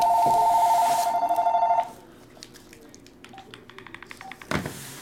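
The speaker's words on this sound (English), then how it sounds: "Phone's ringing, dude." A telephone rings loudly and steadily for about two seconds, then cuts off, leaving quieter room noise with faint clicks and a brief thump near the end; no talk is heard.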